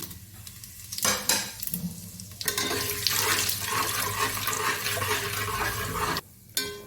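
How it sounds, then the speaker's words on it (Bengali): Whole garam masala, cumin, bay leaf, dried chili and sugar hit hot oil for tempering a mutton curry, bursting into a loud, crackling sizzle that holds steady for several seconds before cutting off. "ওর মধ্যে ফোড়ন দিয়ে দিলাম গরম মশলা, জিরে, তেজপাতা, শুকনো লঙ্কা, চিনি"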